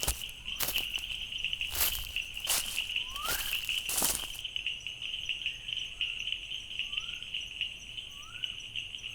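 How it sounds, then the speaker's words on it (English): Several short rising chirps from a frog call out over a steady insect drone, with a few louder clicks early on. "That's one male bush frog displaying."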